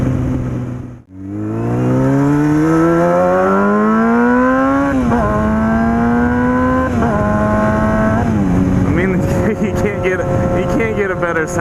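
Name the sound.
motorcycle with cheap aftermarket exhaust riding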